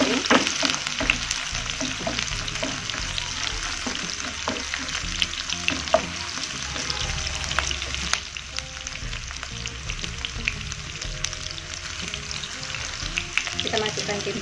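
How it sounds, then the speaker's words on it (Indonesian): Onions sautéing in a pan for a rimbang dish, a close, steady sizzle with frequent scraping stirs and light clinks running continuously and alone for the whole stretch. "Kita masukkan bawang bombaynya. Kita tumis sampai mengharum."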